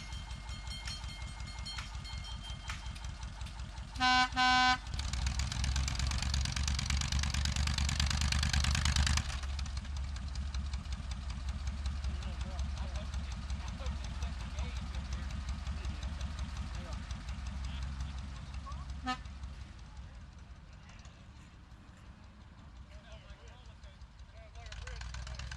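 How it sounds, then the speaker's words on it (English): A miniature train engine, the Gypsy Express in Staunton, Virginia, runs steadily on new track with a low mechanical rumble, and a short burst of a whistle-like toot sounds early on before the engine keeps chugging. "The engine was started and tested on the new track for the first time."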